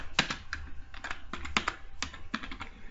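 Quick, uneven clicking of keys on a computer keyboard, close by, in short bursts with brief pauses between them.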